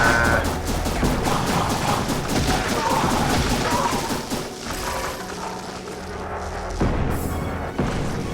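Rapid bursts of gunfire and booming mortar hits in the roguelite shooter Ziggurat, dense and loud at first, thinning toward the end with a few sharp thuds, a voice talking over it.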